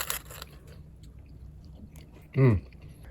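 One crisp, close crunch as toasted acorn squash seeds from hydroponically grown squash are bitten, standing out briefly against an otherwise quiet background.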